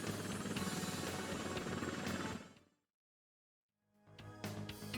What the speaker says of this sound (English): what it's like to fly such a sophisticated attack helicopter